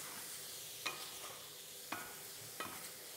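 Coated food is stirred in a pan, a low steady sizzle running underneath with three brief scraping strokes standing out at intervals, fairly faint and with no talking.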